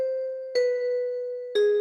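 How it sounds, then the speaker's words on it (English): A vibraphone sample in a hip-hop beat rings out in three sustained, bell-like notes, each struck tone sounding clearly on its own and decaying slowly before the next. "A vibraphone."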